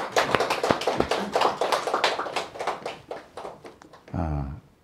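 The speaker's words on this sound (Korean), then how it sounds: "우리 감사의 박수를 한번 올려드리겠습니다." Church congregation clapping in thanks during a sermon, a dense run of hand claps lasting several seconds, fairly close and loud, with a voice briefly heard at the end.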